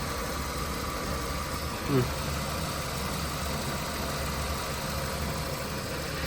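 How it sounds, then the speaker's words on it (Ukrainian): A 2005 Ford Fiesta Mk5 with about 172,000 km on it idles steadily close by, a continuous low engine hum with a light ticking texture and no revving throughout. "Ось як працює двигунчик."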